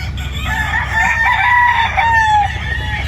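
Breeding roosters kept with their hens on a farm in Batangas crow loudly and close by, one drawn-out call over a low rumble of farm background.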